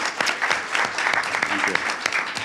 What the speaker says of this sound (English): give a round of applause to all four of these members and thank them for their service